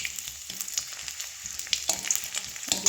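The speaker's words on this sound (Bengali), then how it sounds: "তেল গরম হয়ে গিয়েছে। এবার তেজপাতা 5 ফোড়ন দিয়ে দিয়েছি" Bay leaves and panch phoron spices fry in hot oil for a vegetarian Bengali dish, giving a steady close sizzle with crackling pops that grow sharper toward the end, with no talking.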